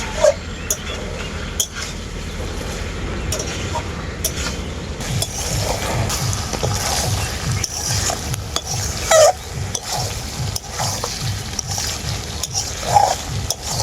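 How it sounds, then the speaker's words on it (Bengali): Chicken cooked with mango kasundi is stir-fried in a pan until the oil separates: repeated rhythmic spatula scrapes and clinks against the pan over a steady, moderate sizzle. "এরপর আমি মাংসটাকে খুব ভালো করে কষাতে থাকবো যতক্ষণ না মাংসের গা থেকে তেল ছেড়ে যাচ্ছে"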